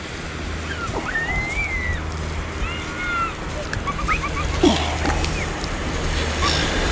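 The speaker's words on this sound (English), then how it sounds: "beautiful backdrop, lapping waves." Gentle waves wash and slosh against a shore beneath breezy wind, while gulls call intermittently in the background.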